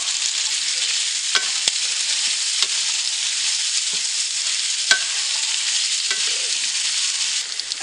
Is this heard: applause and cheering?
no